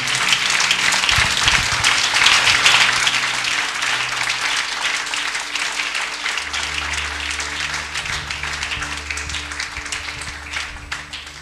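A church congregation applauds during a sermon, a loud sustained crowd of clapping that swells early and then slowly thins, with faint voices and a low hum mixed in underneath.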